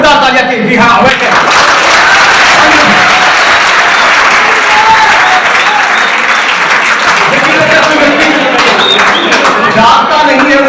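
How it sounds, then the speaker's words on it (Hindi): A seminar audience at a college career counselling and motivational event bursts into loud, sustained applause, dense clapping with some cheering and voices mixed in across the whole stretch. "एक बार जोरदार तालियां की"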